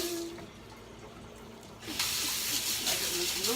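Hot water runs steadily from a kitchen tap, a broad hissing splash that grows louder partway through as the flow is turned up or hands go under it.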